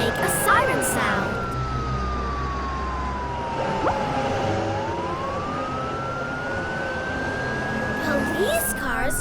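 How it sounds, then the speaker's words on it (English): A toy police car siren wails in a slow rising and falling sweep, steady and fairly loud, with a voice and a soft voice speaking faintly underneath. "Police cars can make a siren sound."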